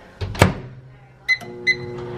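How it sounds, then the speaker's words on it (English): A door thuds shut, then two short electronic beeps sound as a microwave is set, followed by a low steady hum. "Putting that in the microwave."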